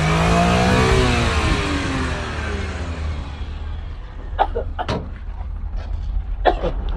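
A Suzuki minivan engine is revved during a test at a surplus vehicle lot, loud and close, rising then falling in pitch before settling to a steady run with a few knocks and sharp clicks.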